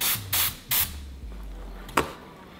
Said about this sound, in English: This White Pumpkin spray mist stuff, this is a 10 out of 10 for sure.